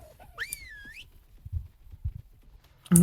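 A short rising-and-falling whistle tone near the start, followed by low soft thumps and a sudden loud burst at the end.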